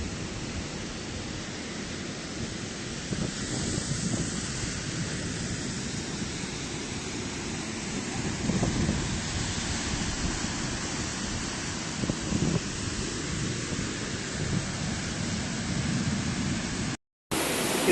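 Steady broad rushing roar of the Tharabu waterfall near Paderu, loud and continuous, with wind buffeting the microphone and no voices; a brief dropout near the end.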